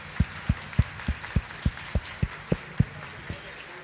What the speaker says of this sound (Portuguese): Vamos aplaudir, irmãos.